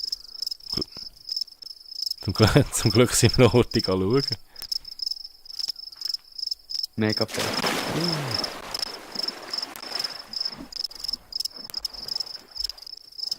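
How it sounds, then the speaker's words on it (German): Crickets chirp steadily in the video game The Forest, a thin continuous high trill running under bursts of gameplay noise and a person talking throughout. "Oder wie heissen die Viecher, die so tönen? Genau, Grillen."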